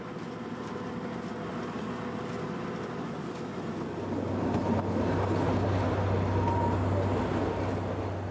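Kalka-Shimla narrow-gauge train rolling through the Indian hills, a steady rumble of wheels and carriages that grows louder and heavier midway with a low droning hum, no voices.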